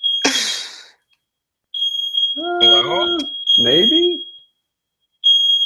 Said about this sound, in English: my smoke detector's going off